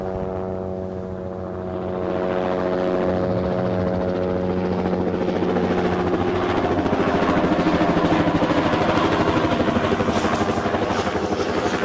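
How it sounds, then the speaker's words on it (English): A helicopter passes overhead near Newcastle airport, its rotor and engine roar building from a steady drone to a loud, close, sustained throb with no talk. "another helicopter."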